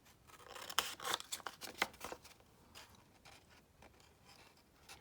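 Scissors snip the corners off an old paper map, a few quiet, close crisp cuts and rustling paper in short bursts, then fainter shuffling.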